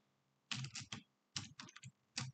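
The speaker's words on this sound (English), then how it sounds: "And we're going to type in" Fingers type on a computer keyboard in three short quick bursts of close clicking keystrokes, separated by brief pauses.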